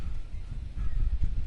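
Crows attacking in the video game Alan Wake, a burst of low, rough cawing and flapping that swells near the end of a short, close stretch.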